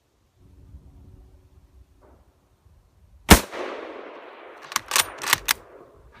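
Gunshots fired at a small target with a Soviet-style rifle: one loud sharp report with a long rolling echo, then a quick burst of three or four more shots, outdoors with no talking.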